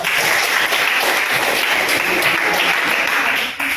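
A classroom of students claps for a group that has just finished presenting, dense continuous applause filling the room at close range, loud and steady before tapering off at the very end.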